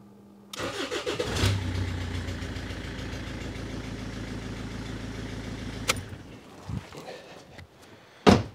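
A Rover 75 engine cranks and fires, settling into a steady mid-pitched idle for several seconds before shutting off, followed by a few clanks and a sharp knock.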